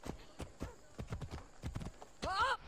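Horse hooves clip-clop in Assassin's Creed Odyssey, a string of quick irregular thuds at moderate volume, with a whinny-like call near the end.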